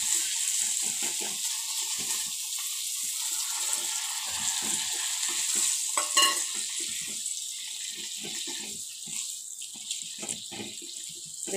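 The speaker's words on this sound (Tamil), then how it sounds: "உப்பு சேர்த்து நல்லா வதங்கி வந்ததுக்கப்புறம் இந்த சென்னாவை தண்ணியோட சேர்த்து தான் ஊற்றணும்." Cooked chickpeas and their water poured into a pan of sizzling onion-tomato masala gravy for channa masala, a steady gushing pour with faint frying, close and alone.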